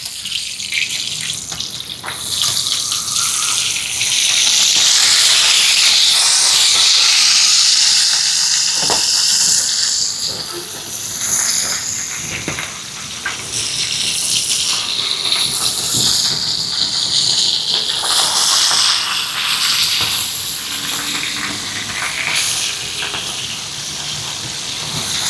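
Fish frying in a pan gives a loud, steady hiss and sizzle that swells and eases over time, with a few soft clicks of the fish being turned and no voices.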